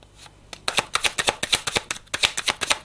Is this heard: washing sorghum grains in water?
no